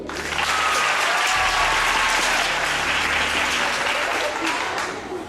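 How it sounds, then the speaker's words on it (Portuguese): Audience applause for Ítalo at the I EMCINE event, a dense, sustained wash of many hands clapping close and loud for about five seconds, with faint voices mixed underneath. "Palmas para o Ítalo."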